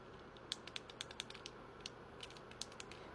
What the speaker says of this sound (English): Now let's compare it to an actual Fidget Cube.